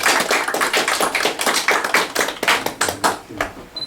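Class audience applauding a named person, a lively burst of many overlapping hand claps, close and fairly loud, tapering slightly toward the end.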